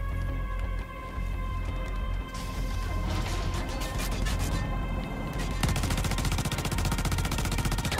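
Rapid automatic gunfire and crashing impacts in the video game Crackdown 3, dense bursts over a droning mechanical background, growing into a fast continuous rattle toward the end.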